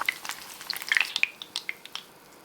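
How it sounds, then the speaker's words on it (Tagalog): An egg fries in a pan, giving a brief burst of light crackling and spitting pops that thins out and fades within a couple of seconds. "Then, magpiprito lang tayo ng itlog."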